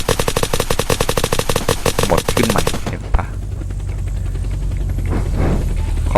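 Rapid automatic gunfire in a Minecraft server game, a long loud burst of fast shots that stops abruptly, followed by rumbling background noise with brief whooshes.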